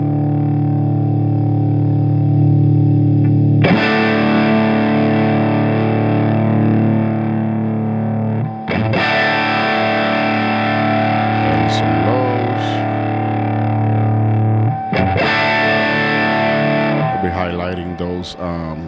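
An electric guitar runs through Logic Pro X amp plugins with an AC15-style amp, producing a thick, distorted, effects-laden tone: three long sustained strummed passages with fresh attacks, loud and close.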